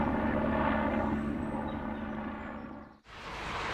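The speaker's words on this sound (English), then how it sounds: "A noisy helicopter this time" A noisy helicopter passes overhead during an early spring countryside walk near Tirley, Gloucestershire, a loud, broad rushing roar that slowly eases before cutting off abruptly, then resuming.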